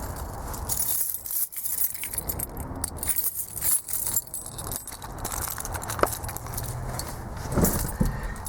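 A large bunch of keys jangles and clinks in close, continuous rattling bursts while someone works on a 1995 Nissan D21 pickup.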